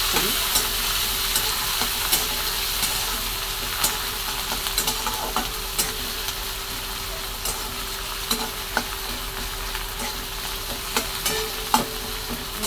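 Onion, tomato, garlic, green chillies, cumin and mustard seeds sautéing in a pan for a dry moong dal dish, a continuous close sizzle punctuated by regular clicks and scrapes of stirring, with no voices.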